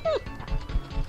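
A cartoon puppy in the Disney game 101 Dalmatians II: Patch's London Adventure gives one quick, high bark-yip at the start, followed by softer game noise.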